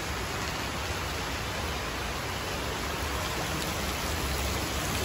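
Dense, steady hiss of heavy rain pouring down during a Ganesh Chaturthi immersion day in India, loud and unbroken throughout with no voices.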